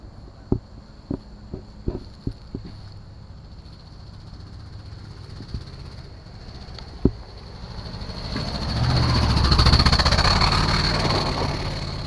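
A 1974 Nova race car approaches on a track, its engine roar swelling from far off to loud near the end, after a few sharp scattered clicks over a quiet background.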